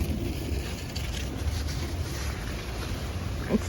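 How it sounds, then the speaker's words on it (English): Steady wind buffets the microphone outdoors in a backyard garden, a continuous low rushing noise with no speech. "It's quite windy right now."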